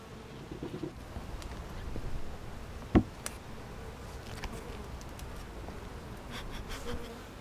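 Honey bees buzz in a soft, continuous drone at a hive during an inspection, individual insects swelling in and out, with a brief sharp tap partway through.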